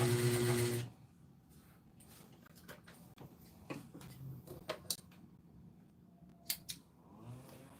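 Sewing machine stitching bridal fabric, with a loud mechanical whir at the start that drops away, then quiet intermittent ticks, clicks and snips close by.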